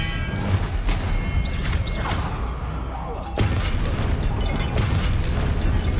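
A burst-like magical blast of the Expelliarmus spell in Hogwarts Legacy, a loud whooshing explosion with crackling energy that carries on as a sustained roar.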